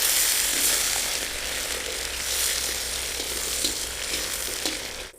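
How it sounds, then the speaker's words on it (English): Boiled eggs frying in a one-pot dish to form a crust, a dense continuous sizzle with faint scraping stirs underneath, steady and close throughout. "And now we fry it until it gets a crust."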